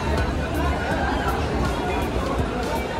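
A dense crowd fills Gorakhpur railway station with close, constant chatter and overlapping voices, a thick hubbub with no pauses.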